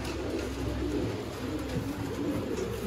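Sialkoti golden pigeons coo in a steady, low murmuring drone, several birds overlapping continuously at close range with a busy background wash.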